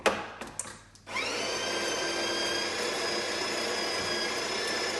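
A De'Longhi La Specialista coffee machine grinds beans in its built-in grinder, starting after a few brief clicks and handling noises, then holding a steady, close, high whirring drone to the end.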